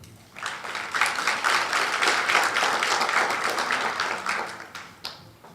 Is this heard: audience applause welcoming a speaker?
yes